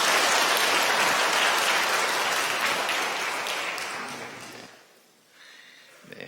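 Congregation applause during a Sunday church service, dense clapping that holds steady, then fades and trails off into near silence with a faint sound at the end.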